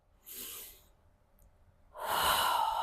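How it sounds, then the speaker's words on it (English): Slow, deep breathing during a Pilates spinal flexion exercise: a soft, breathy inhale followed by a longer, louder exhale, close and alone without talk. "Can you breathe into your belly? Inhale. Exhale. 2 more times."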